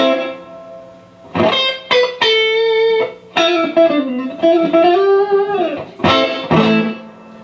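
Electric guitar notes are picked one by one through a delay pedal, each note followed by a repeating echo, with the sound bright and up front in a slow melodic line.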